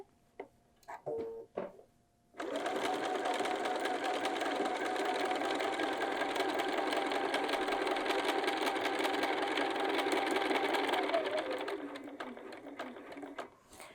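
A sewing machine stitches pocket seams along a top edge, a few handling clicks giving way to a long, steady, close mechanical whir of stitching that slows and stops near the end, followed by light ticks.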